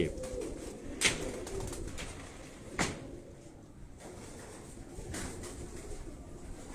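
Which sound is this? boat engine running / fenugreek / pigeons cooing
pigeons cooing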